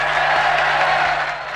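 A rain-soaked outdoor crowd in Romania cheering and applauding for President Bush, a dense, loud wash of clapping and voices that holds steady and eases off slightly at the end.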